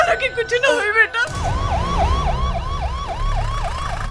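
Ambulance siren in a Bhojpuri film, a loud wailing tone rising and falling in steady repeated sweeps for about three seconds after a brief burst of shouted dialogue.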